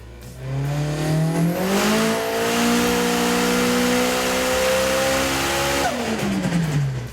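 Nissan S14 time attack car on a dyno at 27 psi boost, its engine revving hard: harmonics climb steadily for about five seconds, hold at high revs, then drop away as the throttle closes, loud and close with no talk.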